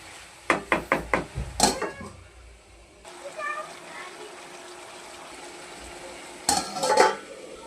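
Metal spoon scraping and knocking in a covered pan of liver fry, a quick run of sharp clinks at the start, then a quieter stretch of faint sizzle before another burst of clattering stirs near the end.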